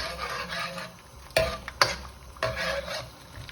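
Sauce for crispy chilli beef bubbling and sizzling in a pan, a steady close frying hiss with a few sharp pops and clatters from stirring.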